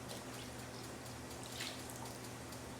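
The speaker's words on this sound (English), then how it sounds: "we're just going to pour it straight in." A melted oil mixture taken off the stove is poured into hot water, giving a faint, continuous liquid trickle and splash with a low steady hum beneath and no talk.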